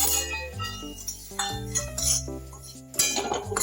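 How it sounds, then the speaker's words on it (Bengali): A spoon scrapes and clinks against a pan while semolina roasts in ghee, close and fairly loud: irregular metallic taps and knocks over a faint frying sizzle, with no voices. "এই ঘিয়ের মধ্যে আমি এই যে এইটুকু সুজি দিয়েছি, এই সুজিটা আমি একটু ভেজে নিব"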